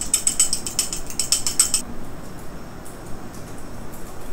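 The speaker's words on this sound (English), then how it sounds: "Next, we need to crack the eggs. Give it a nice little whisk." Cracked eggs are whisked in a bowl, with quick rhythmic clicking strokes for about two seconds. Fainter, sparser taps follow.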